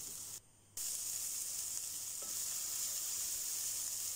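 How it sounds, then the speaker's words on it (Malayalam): Spiced filling with pepper powder and garam masala sizzles steadily in a pan over a medium flame while being stirred for chatti pola, a close, continuous frying hiss broken by a brief quiet gap near the start. "ഒരു മീഡിയം ഫ്ലെയിമിൽ നന്നായിട്ട് ഇളക്കി കൊടുക്കുക"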